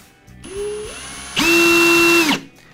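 An 18V brushless cordless drill driver starts with a short whir, pauses briefly, then runs at full speed in a loud, steady whine for about a second before winding down.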